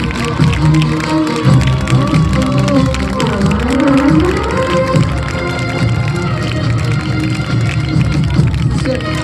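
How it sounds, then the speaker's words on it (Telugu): A congregation of believers at a prophetic church gathering clapping loudly: a dense, continuous wash of crowd clapping and cheering in a large room, with a voice and music running through it. "నమ్మిన వాళ్ళు మాత్రం గట్టిగా చప్పట్లు"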